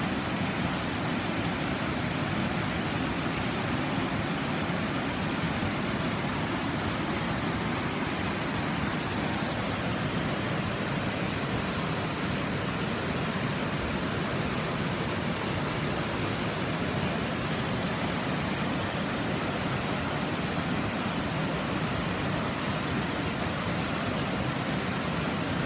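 The rushing water of the River Isla in Scotland, a loud, steady, broadband roar that continues without a break and without any voices.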